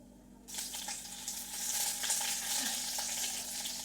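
Red chillies dropped into hot oil for a tadka with asafoetida, bursting into a loud, steady sizzle that continues to the end.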